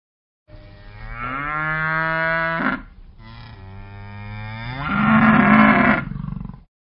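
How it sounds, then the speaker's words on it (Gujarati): A cow gives two long, drawn-out moos, one after another. Both are loud and close, with the second call swelling stronger, heard alone against silence. "ગાય ભાંભરે છે."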